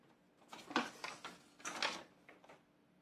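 A pen marking fabric for sewing a pouch, a few short close scratchy strokes in quick bursts, quiet and alone.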